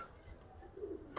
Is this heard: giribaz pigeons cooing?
yes